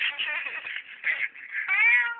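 A person imitates a cat's meow, a series of drawn-out, nasal mewing calls close to the mic, the last one longer and louder.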